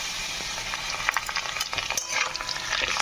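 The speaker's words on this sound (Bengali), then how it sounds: "আলু আর চিংড়ি মাছটা। এবার একটু ভালো করে একটু ভেজে নেব।" Potatoes and unseasoned prawns fry in a pan with a loud, dense sizzle that crackles continuously and steadily throughout, with no talking.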